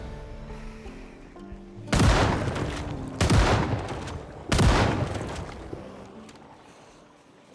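Three heavy shotgun blasts boom in a video game, each a loud sharp burst with a decaying tail, spaced about a second and a half apart over a background music bed.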